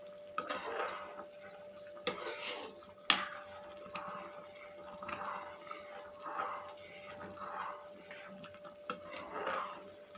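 Cream boiling down for homemade ghee in a kadhai, stirred slowly with a spoon that scrapes and clinks against the metal at irregular intervals over a soft bubbling, with a steady faint hum and sharp taps.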